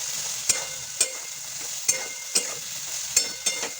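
Soybean chunks frying in a pan with salt and turmeric give a close, continuous sizzle, broken by regular clacks and scrapes of a spoon stirring about twice a second, with no voices.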